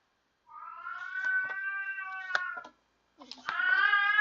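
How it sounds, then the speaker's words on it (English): A talkative Siamese cat lets out a long, drawn-out meow, pauses briefly, then starts a second loud, wailing meow, close by and clear. "It's my cat. She's a Siamese, and she has lots to say sometimes."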